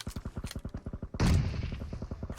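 Rapid automatic gunfire in the mobile battle royale game PUBG Mobile, with fast evenly spaced shots followed by a louder, heavier burst that blends into continuous firing before a few more shots.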